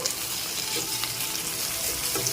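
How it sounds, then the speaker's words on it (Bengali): Onion, green chilli, grated ginger-garlic and tomato frying in a pan, a steady close hiss of sizzling oil throughout with faint stirring scrapes. "একসাথে ভালো করে মিশিয়ে আরও কিছুক্ষণ ভেজে নিচ্ছি"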